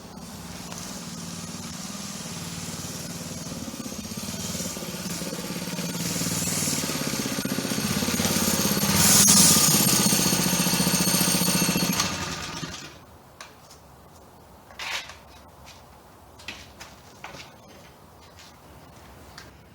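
A minibike engine drones loudly and steadily during a test ride, swelling louder toward the middle, then cuts off. A quieter stretch with a few scattered knocks and clatters follows.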